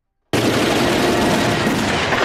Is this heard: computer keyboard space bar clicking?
no